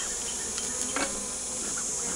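Honey bees swarm over the comb of an open top bar hive, their constant close hum running unbroken, with a faint click or knock near the middle.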